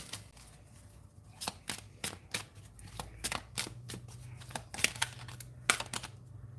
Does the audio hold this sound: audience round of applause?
no